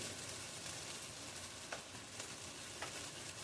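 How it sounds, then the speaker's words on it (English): Onions sauteing in a pot for curry goat stew give a steady, close sizzle and hiss throughout, with a few brief stirring clicks and no voices. "I need to do that while it's sauteing the onions"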